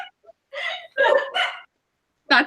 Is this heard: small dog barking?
yes